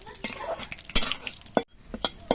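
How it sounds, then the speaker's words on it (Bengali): Bay leaves with whole cardamom, cinnamon and cloves fry in butter in a pan for a paneer dish, a faint sizzle under repeated spoon clinks and stirring scrapes, with a low murmur of voice. "এবার এগুলো একটুখানি সময় ভেজেই নিতে হবে"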